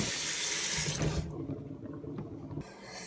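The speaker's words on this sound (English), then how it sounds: "first, put some water in your cup" Water pouring into a cup, a close, steady splashing stream that cuts off after about a second, leaving a quieter trickle before a brief renewed rush at the end.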